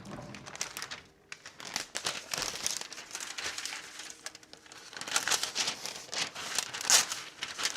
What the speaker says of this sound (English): Going to take this one out and line it with parchment paper.